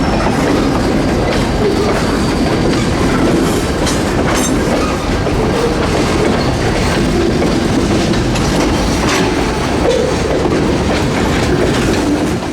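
Yadkin Valley Railroad locomotives switching tank cars, a steady loud rumble with the clickety-clack of rolling wagons and some faint wheel squeal, continuous and close, with no talk.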